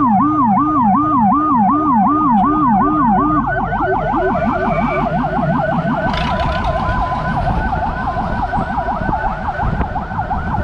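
A loud ambulance siren wailing up and down close by in a long traffic jam in Medan, its cycles overlapping with a second siren, over rumbling traffic.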